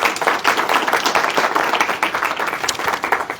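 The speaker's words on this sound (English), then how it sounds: "A round of applause for all of you, just to feel a sense of liveliness" A crowd at a poetry reading applauds steadily throughout, with dense overlapping claps at a constant, fairly loud level and no voices standing out.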